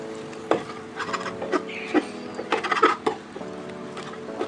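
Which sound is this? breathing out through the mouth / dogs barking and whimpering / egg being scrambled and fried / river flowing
egg being scrambled and fried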